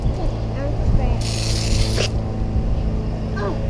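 A garden water hose sprays during a car wash, a hissing burst of water lasting about a second near the middle, heard up close amid background chatter and splashing.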